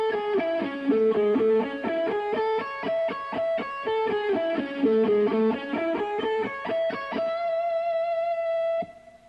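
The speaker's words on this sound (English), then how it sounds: "And now played slow, it sounds like this." Slow, even run of distorted electric guitar notes from a shred lick, stepping up and down in a steady pattern before landing on a held high note that is abruptly cut off; played alone and close.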